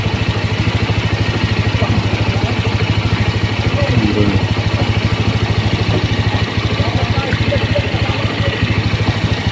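A motorcycle engine on a bamboo raft crossing a river runs in a steady, loud, throbbing idle with a mechanical clatter throughout, while people talk faintly underneath.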